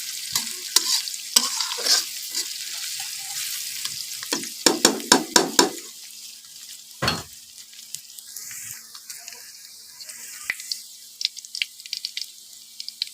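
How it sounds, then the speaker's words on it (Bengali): Garlic frying in a pan while being stirred, with crisp scraping clicks and spoon knocks in quick bursts over a faint, light sizzle, close and without talk. "এখন ভালো মতো নেড়ে চেড়ে লাল করা পর্যন্ত আমি ভেজে নিব।"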